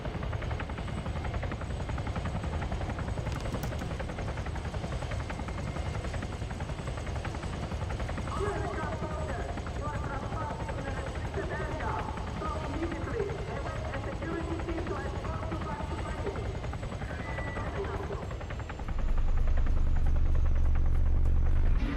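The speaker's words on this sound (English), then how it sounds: "There's a helo." Rotor thrum of a helicopter in the combat game Arma 3 pulses steadily under a player's voice, its buzzing beat holding throughout and swelling louder toward the end as it draws near.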